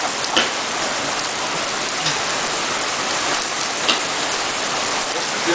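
Heavy rain pours down on a recycling station, a loud, continuous close hiss of dense drops with a few brief knocks on surfaces.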